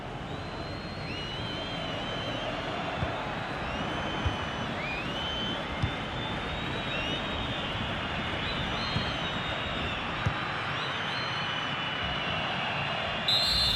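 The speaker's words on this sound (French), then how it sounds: "donc le coup de sifflet final dans cette rencontre" Final referee whistle in the FC 25 football video game, a Club World Cup match between Botafogo and Seattle Sounders: a short high whistle blast at the very end over a steady roaring stadium crowd.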